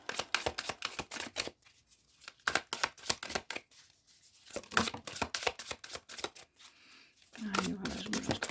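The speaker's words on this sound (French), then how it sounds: "Je vais quand même les mélanger pour poser les intentions." Tarot cards being shuffled by hand, a quick run of crisp riffling flutters and slaps in bursts with short pauses, close and fairly quiet.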